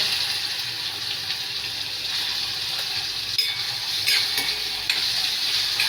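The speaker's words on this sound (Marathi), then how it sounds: "चांगलं तेलामध्ये भाजून द्यायचं." Onion and tomato fry in oil with spices, a steady bright sizzle running throughout with a few sharper crackles and stirring scrapes near the middle and end, close and fairly loud, no voices.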